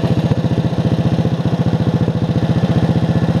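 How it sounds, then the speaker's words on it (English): A racing lawn mower engine runs loud and close with a fast, steady pulsing beat, the small engine chugging evenly without a stall. "I need to try to not stall it because the battery is not hooked up"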